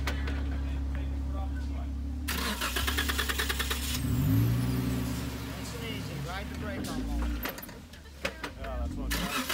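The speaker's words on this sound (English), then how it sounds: "Slow it down. First gear, Jim" An off-road vehicle crawls slowly in first gear over a stump in the Hoosac mountain range, its mid-pitched engine idling and revving up close beneath a man's spoken directions.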